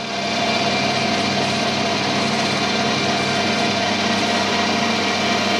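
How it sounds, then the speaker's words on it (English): A lathe drills a 5 mm hole into a plastic part at 1000 RPM, making a steady, even whine that stays at one pitch from start to finish, close and with no talk. "drill it 5mm for a depth of 20"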